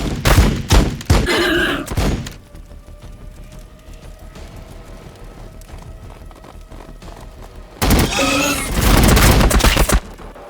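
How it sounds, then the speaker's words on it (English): Gunfire in the Warhammer 40,000: Battlesector strategy game comes in loud bursts of rapid shots at the start, then a quiet hum, then another dense, heavy volley near the end. "Oh, these guys are shooting at me."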